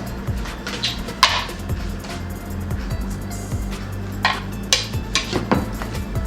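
Dry flour, baking soda and salt for banana bread being combined in a bowl, with repeated scraping and knocking of a utensil against the bowl and a few sharper clinks, close by with no talking.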